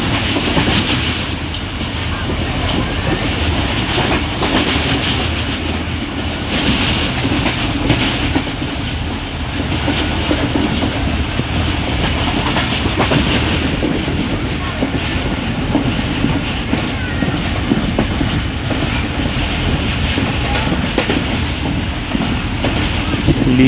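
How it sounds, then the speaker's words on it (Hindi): Tezgam Express passenger train moving between Karachi and Lahore through hills at evening: a continuous loud rumble and rhythmic wheel clatter heard close from on board, steady for the whole stretch. "चलती हुई ट्रेन"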